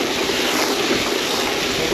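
A steady stream of water sprays onto soapy teak wood, a constant broadband hiss with no break, close and fairly loud, with no talking over it.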